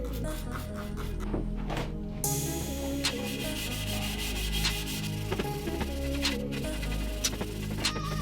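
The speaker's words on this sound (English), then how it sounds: "spray it on that exhaust pipe, the silencer, and just give her some Scotch-Brite and clean it up real nice" Scrubbing a four-stroke dirt bike exhaust pipe and silencer with a Scotch-Brite pad and sprayed aluminum wheel cleaner: close, rhythmic abrasive rubbing strokes, fairly quiet, repeating irregularly over a low background hum.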